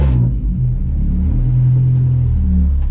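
A GLTC race car's engine rumbles and revs low and loud from inside the cabin while driving, a steady droning tone with a brief dip and rise in pitch.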